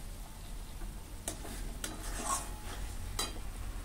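Octopus curry is stirred in a pan, a low sizzle running under a few scraping strokes of a spoon against the metal.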